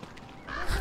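Turkeys gobble in the video game Don't Starve Together, a rising honking call that swells louder near the end of the short burst, with no talking.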